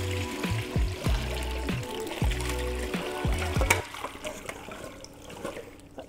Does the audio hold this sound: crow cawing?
no